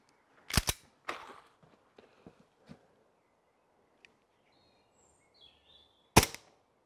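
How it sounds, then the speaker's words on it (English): An ASG Strike Systems Commander XP18 CO2 airsoft pistol fires 0.28 gram BBs at a target 50 meters away on an outdoor range, with two sharp, loud cracks several seconds apart and a few fainter clicks between. "we're just here to shoot it and see how well it does"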